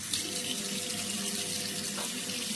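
Water runs steadily from a sink tap, a continuous close splashing rush used to rinse a face, with no talk over it.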